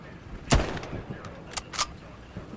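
Scattered gunshots in the World War II shooter Hell Let Loose, a few sharp distant cracks spaced irregularly over low background rumble.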